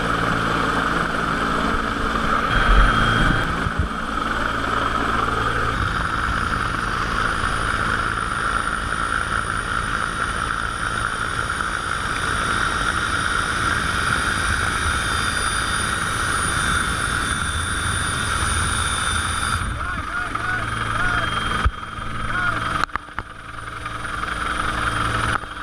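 A rescue helicopter's steady engine drone with a rotor-like hum continues for the whole stretch, loud and close, with no voices and only brief dips near the end.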